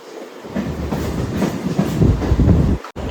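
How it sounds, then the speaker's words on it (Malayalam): Rumbling clickety-clack of a moving Mumbai suburban train heard from inside a first-class compartment, loud and continuous, growing heavier with a sudden brief dropout near the end. "മെട്രോ പിടിച്ചിട്ട് നേരെ നമുക്ക് നമ്മളെ സ്റ്റേഷനിലേക്ക് പോകണം."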